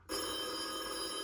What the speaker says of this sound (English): And then my phone rang.